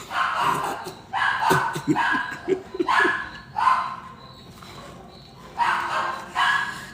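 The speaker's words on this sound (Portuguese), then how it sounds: "Ele late em Fá sustenido maior." A dog barks in a series of sharp repeated bursts at moderate distance, with gaps between them and some background noise.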